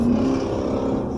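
Car engine droning steadily from inside a moving vehicle on a highway as a Dodge Charger drives alongside, a close continuous low rumble.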